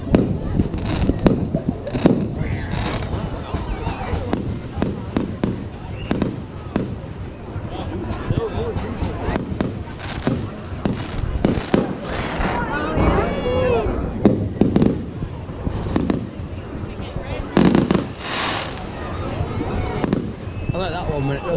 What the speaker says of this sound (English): That's wicked fireworks.